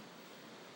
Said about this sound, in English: let me show you the amazing sound of crashing waves